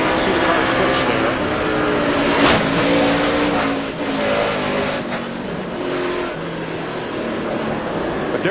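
NASCAR race cars roaring steadily around the track, a dense continuous engine drone with shifting pitch as cars pass, under broadcast commentary.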